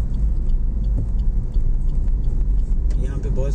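Car climbing a steep ghat road near Lonavala, its engine a steady low rumble throughout with road noise, while someone talks over it.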